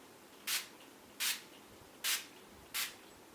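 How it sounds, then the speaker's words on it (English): Colourpop Amber setting spray hisses out in four short, even mists at a steady pace, close and clear against a quiet background. "I'm going to go in with the Colourpop Amber setting spray"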